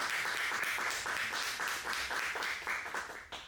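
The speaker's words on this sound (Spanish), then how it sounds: "Un aplauso, por favor, para Rubén." An audience at an evening event in a history museum in Paraná applauds, a steady dense clapping that holds evenly for a few seconds before thinning out at the end.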